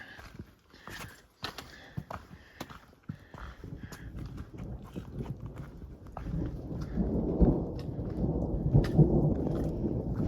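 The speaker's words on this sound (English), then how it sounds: "Hopefully we can catch some good thunder." Thunder rolls through a storm on a high Colorado ridge, a deep rumble that swells and grows louder over the last few seconds, with scattered crackles and patter on top.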